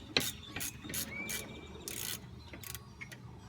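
A hand ratchet clicks in short, quick bursts while screwing in the rear brake caliper bolts of a 2004 Chevy Impala. The close, crisp mechanical ratcheting repeats several times with brief pauses between bursts.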